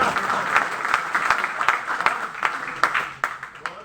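Applause from the audience at a Hindi comedy poetry gathering, steady clapping with some sharp individual claps standing out, at moderate loudness.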